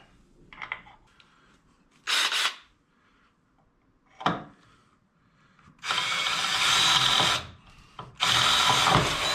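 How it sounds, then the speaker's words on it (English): A power drill drives a screw while a fish finder is mounted on a SeaArk ProCat boat. Two short whirring bursts come first, then two longer sustained runs, loud and close, with quiet pauses between. "Now I'm going to put this other screw in."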